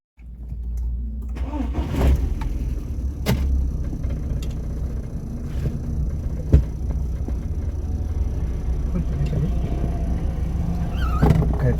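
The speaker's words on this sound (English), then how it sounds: "Okay, it's idling steady, 900 RPM." Volkswagen Golf Mk1 with a freshly built engine starts and settles into a steady idle, a low continuous rumble close by with a few clicks and knocks over it.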